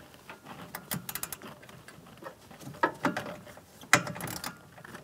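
Ratchet tightening a nut on the A/C condenser of a GMC Yukon XL in a cramped engine bay, giving short bursts of clicking and mechanical ticks with a few sharper metallic knocks, close and moderately loud.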